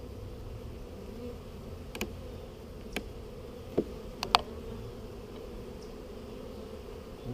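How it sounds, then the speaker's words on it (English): Steady buzzing of many agitated honeybees around a hive close by, a continuous droning hum with a few faint clicks and taps scattered through it. "there's definitely bees all the way out to the edge here"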